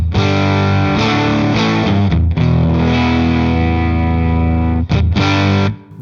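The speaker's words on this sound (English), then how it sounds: "If you turn the gain all the way up, of course, it does get louder as well, but it also gets dirtier." A Laney LA-Studio tube amplifier with its gain turned all the way up gives a loud, thick, heavily distorted guitar tone. Sustained chords are broken by two brief gaps before the sound fades out.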